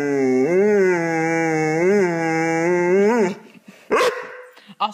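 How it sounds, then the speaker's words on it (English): A dog makes a long, wavering, howl-like vocal sound for about three seconds, then gives a single sharp bark, loud and close. "Don't bark at me."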